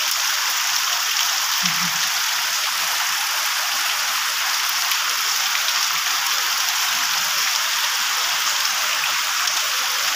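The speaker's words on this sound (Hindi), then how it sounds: "केते जोर संगाने वर्षा होची" Heavy rain pours down in a steady, dense hiss for ten seconds, loud and unbroken, with a faint low thump partway through.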